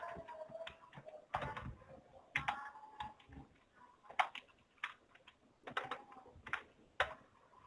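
Quick bursts of typing on a computer keyboard at a command prompt come in uneven clusters of close, crisp key clicks separated by short pauses, quiet and with no talking.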